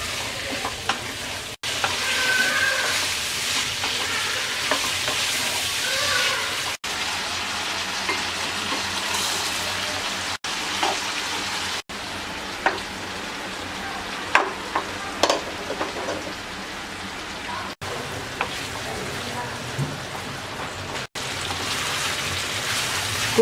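Star fruit pieces with salt sauté in a pan over medium-low heat, a steady close sizzle with a rain-like crackle, broken up by the scrape and clatter of stirring and several brief cuts.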